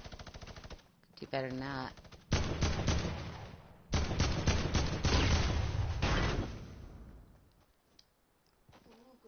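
Gunfire from hunting rifles in a video game, loud bursts of rapid shots in several volleys that nearly fill the clip, with a voice speaking briefly over the shooting.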